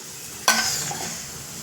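Dosa batter hits a hot pan with a sudden sizzle that starts sharply and then settles into a steady, moderately loud hiss close by, with no talking.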